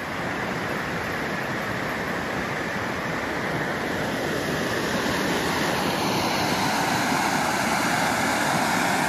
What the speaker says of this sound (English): Super peaceful out here with the little waterfall and all that stuff too.